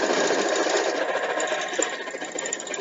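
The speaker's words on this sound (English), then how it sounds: "you want to have the fabric go into the sewing machine pretty easily" A sewing machine stitches quilt fabric for a queen-sized quilt, its motor whirring in a fast, steady mechanical chatter close up, with no talking.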